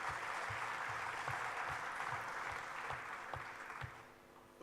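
Audience applause at a large Hindu conference panel, a dense wash of clapping with low thumps that starts at full strength and fades gradually toward the end.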